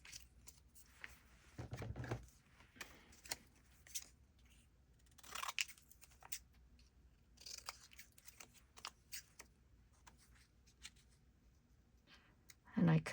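Scissors cut paper pieces for a junk journal, giving scattered crisp snips and rustles at a fairly quiet level, with a louder crunch near the start and one near the end.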